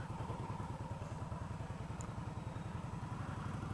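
A 2015 Indian Scout with a Stage 1 package pulls away, its engine a quiet, steady low rumble with an even pulsing beat heard from the rider's position.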